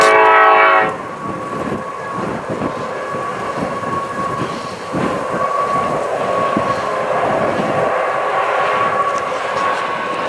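A long coal train rolls past in the distance, a steady rumble with faint rhythmic clickety-clack of wagons, opening with a brief train horn blast before settling into continuous rail noise.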